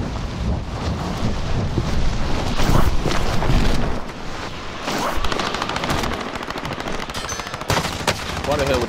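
Sustained M4 rifle fire in a combat game, with rapid bursts and dense overlapping shots loud and close, mixed with rushing wind-like noise for the whole stretch.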